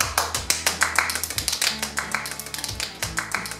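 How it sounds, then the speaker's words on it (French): An audience claps loudly and rapidly in a sustained, dense burst of applause as a performer dressed as the elf character Maya is introduced on stage. "je vous demande d'applaudir très fort"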